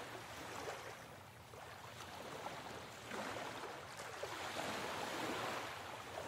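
Continuous ocean waves washing onto a shore, a soft, steady rush of surf with gentle swells, no voices.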